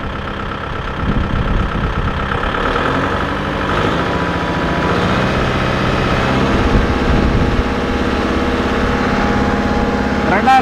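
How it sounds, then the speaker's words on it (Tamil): A Kubota tractor engine idles and then climbs steadily as the accelerator is increased, a close, continuous mechanical drone that grows fuller and louder over several seconds. "இப்போ நான் ஆக்சிலேட்டர் இன்க்ரீஸ் பண்ணி காட்டுறேன்"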